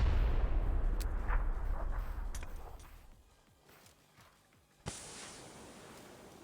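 Grenade blasts in a PC shooter game, a loud rumbling explosion fading over a few seconds with scattered sharp cracks, then a second sudden burst followed by a sustained hiss.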